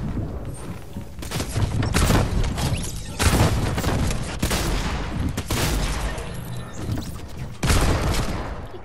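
Explosions in the video game Fortnite, a loud dense run of booms and crackling blasts rolling one after another with several heavier bursts, close and continuous.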